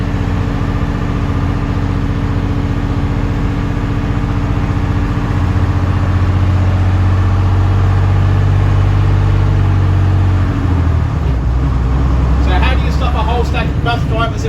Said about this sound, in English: When it gets to a certain speed, then it gets excited and then thinks, oh, I'll go back to the second gear, then go back and up and down